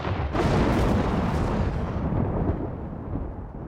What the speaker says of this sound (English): Artillery, fire!